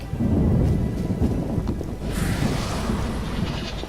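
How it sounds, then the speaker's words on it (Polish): Heavy thunderstorm with steady rain in The Witcher video game, a loud continuous roll of thunder over a dense wash of falling rain, with a brighter crackling surge of rumble partway through. "Pardon, jest niezła burza."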